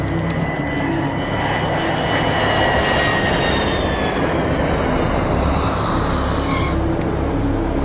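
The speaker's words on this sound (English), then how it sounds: "Mars Tower, check wheels down, wind estimated calm, cleared to land," A JPATS prison transport airplane landing on runway 32, a loud continuous engine roar with a whining high tone, close and steady throughout, with no voices.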